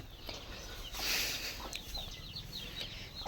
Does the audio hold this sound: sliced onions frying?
no